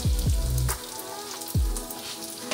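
Sfenj, Moroccan yeast doughnuts, sizzle and crackle in hot frying oil, with a few close bubbling bursts and pops over a steady hiss, no talking.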